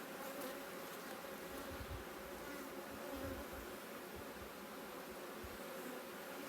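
A steady, dense hum of many honey bees buzzing together in a hive, continuous and close, with no voices.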